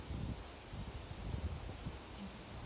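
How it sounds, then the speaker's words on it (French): Wind rustling through the leaves of Canadian maple trees, a soft, steady hiss of foliage with gentle gusty swells, faint and continuous with no voices. "Quand le vent s'engouffre dans les feuillages, ce sont comme des mélodies."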